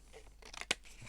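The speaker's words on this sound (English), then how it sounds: "we're going to cut off all of those extra bits, the foldy bits" Scissors trimming off the folded extra bits of a piece of material, a few soft close snips building to one sharper cut, quick and alone.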